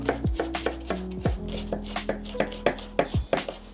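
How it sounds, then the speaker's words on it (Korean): A kitchen knife chops green onion on a board for scallion oil. About a dozen crisp, close chops come in an uneven but quick rhythm, with no talk. "파기름을 낼 파 먼저 썰어줘 볼게"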